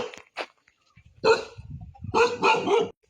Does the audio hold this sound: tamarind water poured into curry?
no